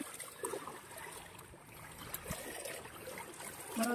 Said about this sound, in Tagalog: Panibagong ilog na naman tayo.